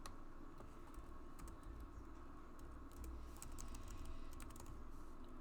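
Rapid typing on a computer keyboard, with dense, steady key clatter close up and no talking, over a constant background hum.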